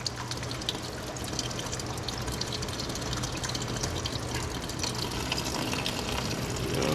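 Coolant drains from the radiator of a 1933 Plymouth in a steady, splashing liquid stream that runs continuously for several seconds at close range, with no voices.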